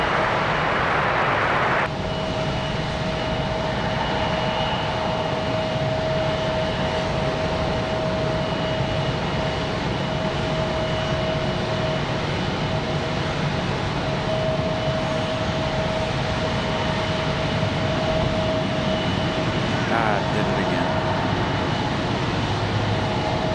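A jet airliner takes off from runway 23 left at Raleigh-Durham airport on a windy day, a loud, sustained engine roar that holds steady throughout without any voices.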